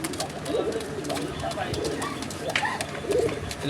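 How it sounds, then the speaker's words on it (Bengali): Soft pigeon cooing in short low phrases from a pair of red bar Rajgolla pigeons, repeated through the clip with some background noise and faint chatter. "আমরা চাচ্ছি যে আমাদের দর্শকরা এই কবুতর ডাকটা শুনুক বা সাউন্ডটা শুনুক"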